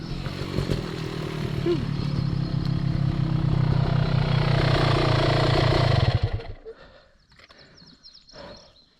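A dirt bike engine roars steadily on a trail ride, loud and close for about six seconds before cutting away to quieter rattles and clatter.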